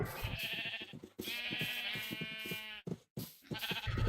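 Minecraft sheep bleat in a video game, a few long wavering bleats from several animals close by, with footstep-like ticks underneath and short gaps of near silence.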